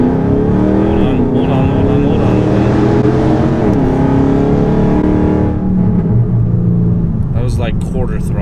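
A Dodge Demon engine running on E85 revs and accelerates at quarter throttle, a loud, close, deep roar that holds steady before easing off near the end, with faint talk over it.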